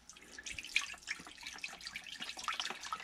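Beef broth is poured into a slow cooker over a black bear roast, making soft, irregular splashing and trickling. The liquid sound is close and fairly quiet, with wet gurgles and drips.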